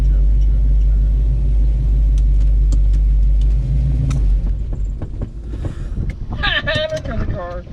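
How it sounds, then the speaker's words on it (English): A 1966-67 Chevelle's engine rumbles steadily with heavy low-end drone as it passes, then fades away as voices and rustling come up near the microphone. "There comes the car."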